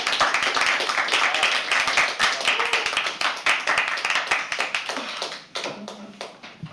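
An audience at a live poetry open mic at The Habitat breaks into dense, brisk applause that stays close and loud, then thins out into a few scattered claps at the end.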